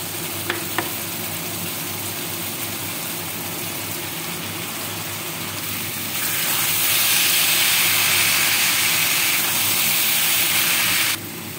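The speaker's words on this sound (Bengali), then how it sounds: "আমি এখানে মোচা সিদ্ধ করে রেখেছি, মোচাটা আমি দিয়ে দিচ্ছি।" Boiled banana flower frying and being stirred into a spice masala in a pan, a steady close sizzle that grows louder and brighter partway through, with a couple of faint utensil taps early on and no talking.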